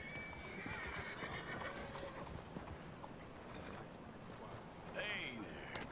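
Horse hooves clip-clopping with a whinny in Red Dead Redemption 2, the in-game horse nearby amid continuous ambient game sound, a voice talking over it.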